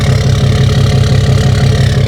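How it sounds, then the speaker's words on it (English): A RAM 3500 Cummins diesel truck with straight-pipe exhaust idles loudly and close, a deep, steady pulsing rumble with a rough, rapid beat and no voices. "you hear that exhaust?"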